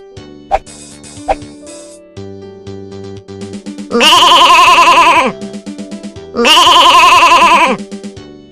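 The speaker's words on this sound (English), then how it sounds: "Goat." Two loud, wavering goat bleats, each held for over a second, ring out after a short musical jingle and soft plucked notes in a children's phonics alphabet song.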